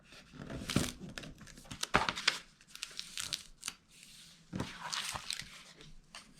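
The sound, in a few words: folding paper flaps of a craft caddy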